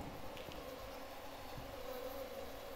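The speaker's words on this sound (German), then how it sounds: "Hier sind Fliegen und Mücken" Flies and mosquitoes buzzing around a morgue room inside the Phasmophobia game, a faint, steady insect drone that hovers continuously in the background without pause, soft and unobtrusive, with no voices over it.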